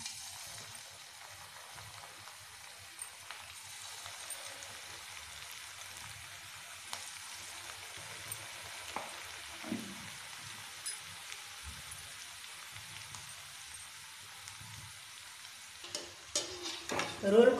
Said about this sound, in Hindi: अब इसमें हम रोल को तलेंगे।